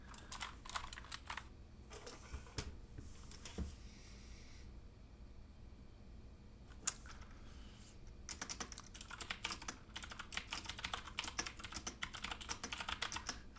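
Typing on a LoFree EH112 Bluetooth mechanical keyboard with round keycaps, quiet bursts of rapid clicky keystrokes broken by short pauses, alone with no talk.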